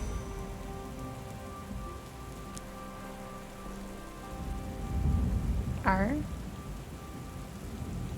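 Rain falls steadily in the video game Book of Hours, a soft constant patter under a low hum, with a brief louder swell and a short tonal chirp late on.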